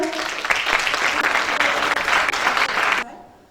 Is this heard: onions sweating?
no